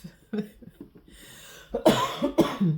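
Someone coughs a couple of times, sharp and close, after a stretch of quiet voice and breathy noise.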